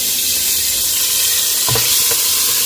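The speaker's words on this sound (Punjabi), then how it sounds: "ਓਲੀਵ ਆਇਲ ਪਾਵਾਂਗੇ ਆਪਾਂ ਵਿੱਚ ਥੋੜਾ ਜਿਹਾ ਲਸਣ ਜਿਹੜਾ ਕੱਟਿਆ ਹੋਇਆ ਸੀ ਉਹ ਵੀ ਐਡ ਕਰ ਲਾਂਗੇ" Chopped garlic sizzles steadily in hot olive oil in a pan, a close, loud, constant hiss with a brief clink of a utensil stirring near the end.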